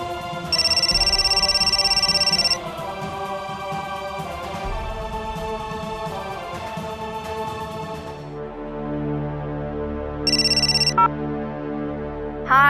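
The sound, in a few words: telephone ringing while calling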